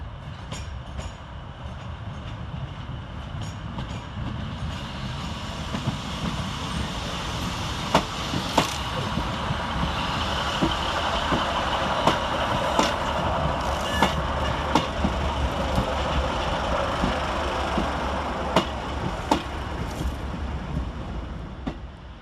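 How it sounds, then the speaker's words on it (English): A Northern Rail class 156 diesel unit pulls into Preston station, a low engine rumble and rolling wheel noise building steadily, with sharp clicks and clanks from the rails scattered through the approach. "Arriving to terminate with a Northern Rail service off Colne is 156402."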